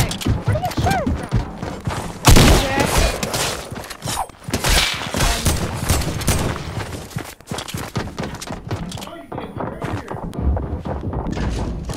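Gunfire in an online duos shooter video game, a busy stretch of repeated shots and thuds mixed with other game sounds, loud and close.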